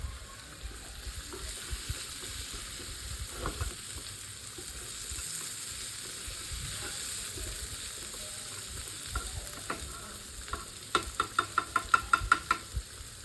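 Shallots and curry leaves sizzle steadily in oil in a pan, a soft continuous crackle, followed near the end by a quick run of sharp knocks from a spoon stirring against the pan.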